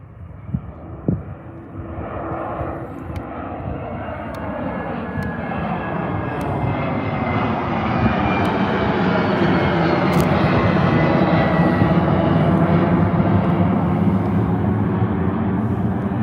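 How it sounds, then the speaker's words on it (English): A Gulfstream 600 business jet takes off at Liverpool John Lennon Airport, its loud engine roar building steadily and holding strong throughout, with a brief knock near the start and no talk. "So we will get this Gulfstream."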